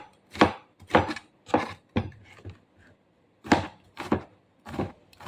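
Onion and garlic are sliced with a knife on a board for sautéed bitter melon: about eight crisp, separate thuds in a loose rhythm, close and clear, with a short pause in the middle.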